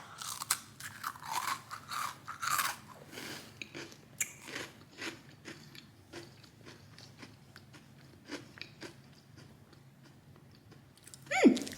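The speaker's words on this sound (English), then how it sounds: "Let me just try this cookie. Oh my God, why is it really crunchy?" Crunchy cookie crust bitten and chewed close up, a series of sharp crisp crunches in uneven bursts gradually thinning out, with a louder rustle at the very end and no talk.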